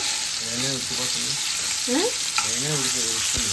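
Chicken keema dosa cooks in an oiled pan with a steady, close sizzle, while a person talks in a sing-song voice over the frying.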